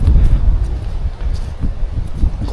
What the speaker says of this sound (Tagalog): Mahangin. Nasa tuktok na tayo ng bundok.